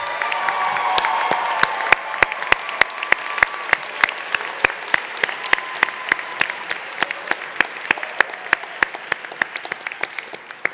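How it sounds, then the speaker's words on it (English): Sustained applause from a graduation convocation audience, a dense wash of many hands with sharp individual claps standing out, steady and fairly loud for the whole stretch. "perhaps we could just give another round of applause for all of those who received their master's"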